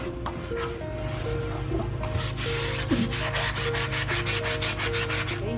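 Baseboard being scrubbed clean in an apartment, with quick repeated back-and-forth rubbing strokes that grow into a fast, even rhythm, loud and close, over a faint steady background hum.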